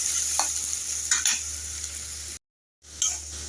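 Potatoes fry in a pan with a bright, steady sizzle as a spatula stirs them in a few scraping strokes; the sound cuts out briefly, then the sizzle resumes.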